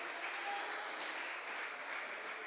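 Church congregation clapping during a Pentecost service, a steady, fairly faint wash of many hands heard from a distance without distinct individual claps.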